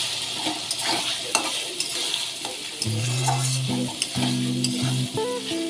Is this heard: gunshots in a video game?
no